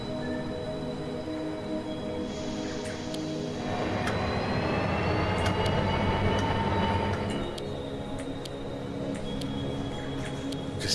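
A model train runs in the Rolling Line railway video game, a steady loud rumbling roll with rail rattle and a tonal whine that swells in the middle and then eases, with no talk over it.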